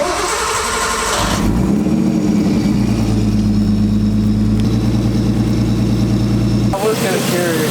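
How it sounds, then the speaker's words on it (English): A Nissan 240SX with an RB20DET engine idles steadily with a low, even rumble, briefly louder at the start and end with some clatter. "we're gonna run the car, make sure everything sounds good"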